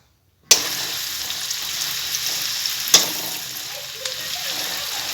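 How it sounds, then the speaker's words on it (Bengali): Chopped onion sizzles steadily as it is stirred and fried in a hot pan until browning, with a loud scrape of the spoon near the middle and a fainter knock later. "আর যতক্ষণ না ভাজা ভাজা হয়ে যাচ্ছে, বাদামি কালার উঠছে, ততক্ষণ নেড়ে চেড়ে একটু ভেজে নিতে হবে।"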